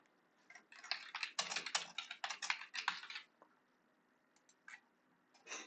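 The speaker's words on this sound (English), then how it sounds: "Type in your question, hit submit." Typing a question on a computer keyboard: a quiet, quick run of key clicks for a couple of seconds, then a few sparse taps, soft and close with no talking.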